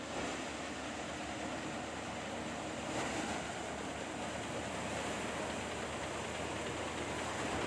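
A tractor-driven paddy thresher runs in a Nepali village during the rice harvest, giving a steady, loud, unbroken roar of engine and threshing noise with no pauses.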